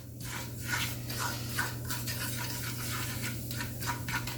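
Flour is stirred into simmering tomato gravy in a pan over high heat, giving a steady, close scraping and rubbing rhythm with soft wet bubbling beneath, with no voices.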